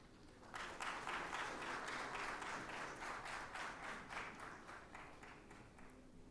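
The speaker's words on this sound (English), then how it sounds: "Please join me in offering a round of applause to welcome our" An audience applauds to welcome dignitaries at an academic gathering in Hyderabad, with steady, moderately distant clapping that swells and then slowly fades over several seconds.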